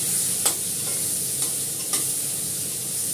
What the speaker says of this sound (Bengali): মেথিটা আগে দিয়ে দিচ্ছি তো। ভালো করে নাড়াচাড়া করে নিই।